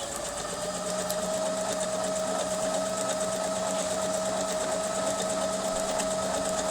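A Pfaff 1132 sewing machine runs a zigzag stitch with its setting turned down from 5 to 3, giving a continuous, even mechanical hum and rapid clatter close by, with no speech.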